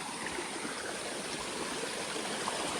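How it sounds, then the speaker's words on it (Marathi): Soft, steady rush of river water flowing nearby, a gentle continuous burble with no voices. "हे साईडला बघा पाण्याचा फ्लो मस्त"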